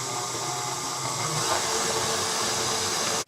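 An electric mixer whirs steadily through molasses cookie dough with butter and egg, a dense, even motor hiss running unbroken at close range before cutting off abruptly.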